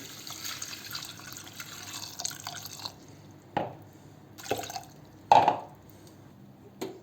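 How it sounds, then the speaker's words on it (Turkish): Water poured into a pot of onion skins, heard as a few short splashing, trickling bursts with quiet gaps between them, fairly faint and with no talk. "Daha sonra içerisine su ekleyeceğim. Biraz su ekliyorum."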